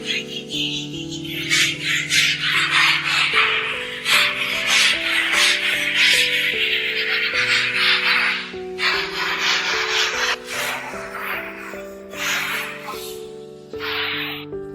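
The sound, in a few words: sanding an old lime plaster wall before applying putty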